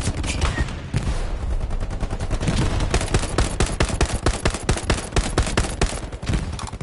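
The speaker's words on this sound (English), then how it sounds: "Somebody's firing at me continuously." Nonstop gunfire in the WWII shooter game Hell Let Loose: dense, rapid bursts of automatic fire crackle close by with a steady rhythm, with no pause across the whole stretch and no speech over it.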